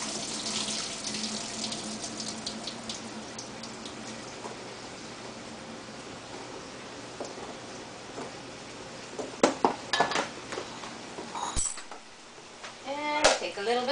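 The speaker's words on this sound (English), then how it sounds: "So, we're gonna strain it." Cooked pasta and hot water poured out through the built-in strainer of a Pasta Boat microwave cooker, a steady splashing rush into a sink, then sharper clunks and sputtering drips near the end.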